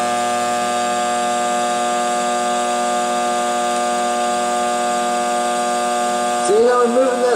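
A TIG welding torch arc shielded by argon at about 20 CFH makes a steady, loud, high-pitched electrical hum. The tone holds unchanged for several seconds, then shifts near the end as a voice comes in.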